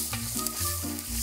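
Kimchi being stir-fried in a large cauldron over a fire, a loud continuous sizzle with scraping and stirring clatter of the spatula close by.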